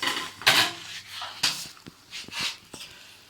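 Metal tartlet tins set down on a table in a kitchen, several separate clinks and clatters spaced irregularly, close by with quiet gaps between and no speech.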